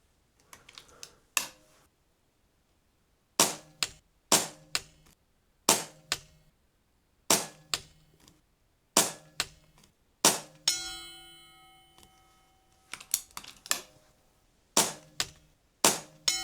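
An Air Arms S510R or Weihrauch HW100 air rifle fires pellet shots, each a sharp crack, spaced a second or two apart across about a dozen shots. One pellet strikes a metal target with a ringing clang that lingers.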